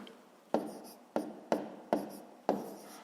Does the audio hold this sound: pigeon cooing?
no